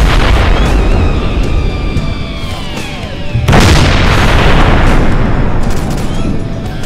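A grenade detonates in an Arma military game, a sudden loud blast cutting through steady loud battlefield noise, with its rumble trailing afterward.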